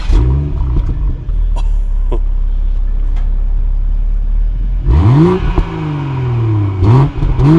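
A 2020 BMW 340 engine starts and revs loudly, its exhaust rising in pitch through two strong throttle blips after a steady low idle rumble, close and dominant with no talk.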